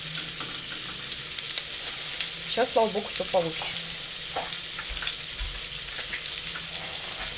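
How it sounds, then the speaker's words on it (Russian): Sausages frying in a pan in a home kitchen at breakfast, a steady close sizzle throughout, with someone speaking briefly over it and faint clinks in the middle. "Сосиски жарятся."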